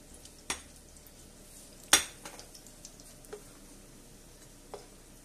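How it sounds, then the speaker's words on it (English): Browned, softened leftover potatoes lifted out of an oily pan onto a plate, with a few sharp utensil clinks and scrapes against the metal pan spaced out over a quiet sizzle. "what I want to do is take all this out and put it on a plate"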